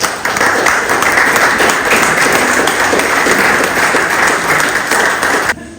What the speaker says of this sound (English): So, a little round of applause for the team.